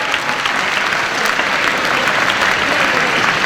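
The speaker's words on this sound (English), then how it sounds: "Give them a clap." Steady, dense applause from a large audience at a national final competition, filling the whole stretch at close range with no voices breaking through.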